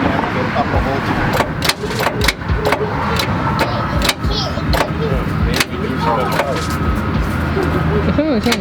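A tour bus engine being cranked while sounding locked up, with repeated sharp clanks and grinding strain close by under a busy, noisy background with voices.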